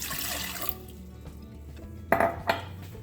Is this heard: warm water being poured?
yes